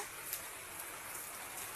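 Steady rain falls in a dense, even hiss, loud and continuous with scattered drops pattering on surfaces and no voices.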